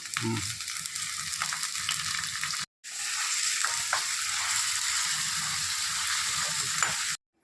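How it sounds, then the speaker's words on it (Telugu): Onions frying in hot oil with curry leaves, a loud continuous sizzle with light stirring scrapes, briefly cut off partway and then resuming. "ఉల్లిపాయలు చక్కగా ఎర్రగా వేగిపోయినాయి కదా, ఇట్లా వేగితేనే బాగుంటుందండి."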